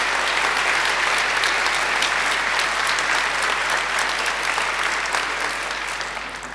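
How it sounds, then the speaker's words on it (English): A large graduation ceremony audience applauds loudly and steadily, a dense wash of many hands clapping that holds for several seconds before tapering slightly at the end. "I think they deserve a great round of applause."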